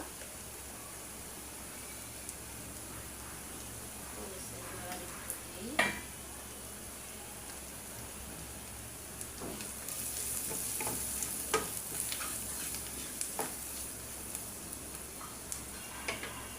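Salt, chilli, cumin and coriander powders for egg korma fry softly in a pan with a steady low hiss, broken by occasional ticks and scrapes of stirring, nearby with no talk.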